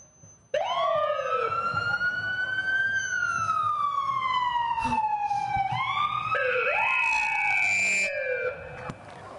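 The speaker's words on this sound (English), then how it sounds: "You got to have a siren in there somewhere." A loud emergency siren wails continuously at a Veterans Day parade, sweeping up and down in pitch with a second overlapping tone joining near the end.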